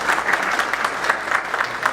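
An audience at an anniversary event honoring Ahmad Shah Massoud bursts into steady, dense applause in a hall, loud and continuous with no talking over it.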